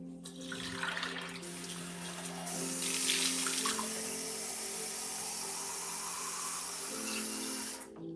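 A tap runs steadily into a sink while a painter changes paint water, a continuous splashing stream that swells in the middle and stops abruptly near the end over a faint background hum.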